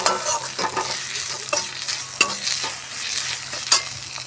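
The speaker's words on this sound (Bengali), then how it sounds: "দিয়ে দিয়েছি নুন আর হলুদ গুঁড়ো, ভালো করে তেলের সঙ্গে মিশিয়ে নিই।" Salt, turmeric and chili powder being stirred into hot oil for an egg curry, a loud continuous sizzle with repeated scraping strokes of a spoon against the pan, close up and without talk.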